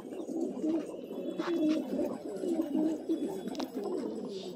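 Hyderabadi jungle pigeons cooing close by at a pigeon market near Jama Masjid, Delhi, a continuous layered murmur of soft throaty calls from several birds, with faint rustling in the background.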